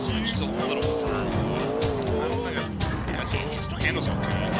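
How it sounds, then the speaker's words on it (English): A powerful car in GTA IV roars with a wavering engine note while its tires squeal, loud and continuous throughout, with someone talking over it. "Car hauls ass, to say the least. Plenty of power, I'll give it a little bit more."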